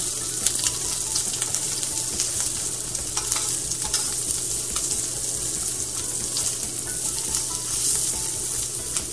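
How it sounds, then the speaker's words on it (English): Lollipop lamb chops sear in olive oil in a hot pan, giving a steady, close sizzle with crackling pops and occasional clinks and scrapes, with no talking. "Once you've got them seared on one side"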